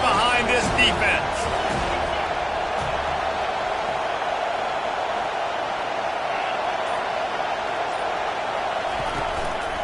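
Stadium crowd noise from a football video game, a steady, loud roar of cheering fans rallying behind the defense on a big third down, with a commentator's voice heard over it near the start.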